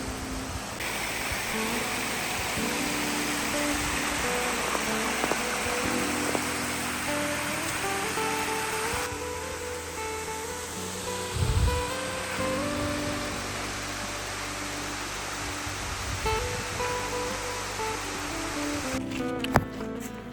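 Barefoot Falls in Dawson Forest roars as a steady broadband wash of falling water, close and constant for the whole stretch with only faint incidental knocks on top.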